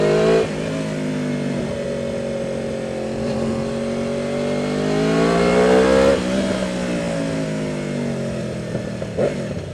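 Aprilia RSV4 Factory sport motorcycle engine pulling hard on the road, a loud, close, rising howl climbing through the revs, dipping briefly at a gear change, then climbing again.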